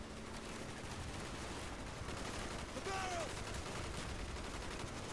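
Continuous gunfire in Call of Duty Black Ops, a steady, dense stream of shots across the whole stretch, fairly faint, with game voices in the background.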